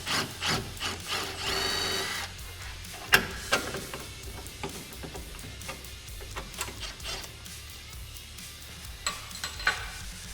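Hand tools clicking and knocking as hardware is removed from the rear A-arm of a Polaris Ranger: a steady run of sharp metallic ticks and taps, close and fairly quiet, with a few louder clanks.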